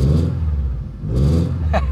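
A 2011 third-generation Subaru Impreza WRX STI with 17,000 km, parked in a home garage, rumbles close by with a deep idle that swells as the engine is revved.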